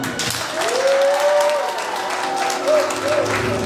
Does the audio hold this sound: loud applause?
yes